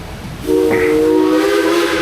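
The Dollywood steam train lets out a loud, sustained whistle blast over a constant rush of hissing steam, close and steady throughout.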